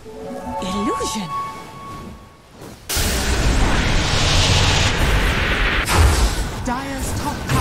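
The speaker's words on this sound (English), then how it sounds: "explosion!" A sudden loud explosion erupts in the video game Dota 2, a booming broadband blast followed by several seconds of crackling, rumbling debris after a voice calls out just before.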